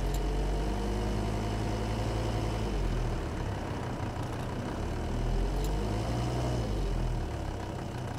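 A car engine runs steadily near idle and rises gently in revs during a turbo boost control valve test, a continuous close low drone with no talk.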